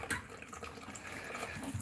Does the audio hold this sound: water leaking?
yes